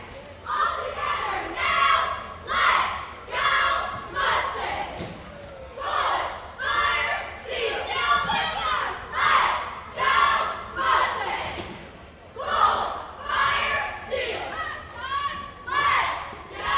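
A cheerleading squad at the YAIAA championships shouts a cheer in unison, with loud rhythmic chanted bursts repeating steadily in a large echoing venue.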